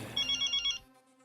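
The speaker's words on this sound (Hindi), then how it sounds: "नाम लिया और बॉस का फोन आ गया।" A boss's call rings on a mobile phone in a comedy scene, a short electronic ringtone of four quick pulsing beeps that trails off into a faint tail.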